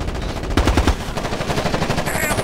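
Automatic gunfire in the video game Ghost Recon Advanced Warfighter 2, a loud close burst of rapid rattling shots followed by more scattered fire.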